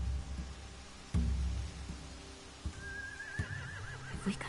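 In The Walking Dead video game, a horse gives a single sharp whinny near the start, followed by quieter snorts and shuffling against low ambient noise, with a faint whistle-like tone drifting in later.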